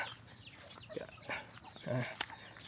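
Free-range farm chickens cluck and call in short, scattered bursts at moderate distance, with one fuller call near the end, over a quiet outdoor background.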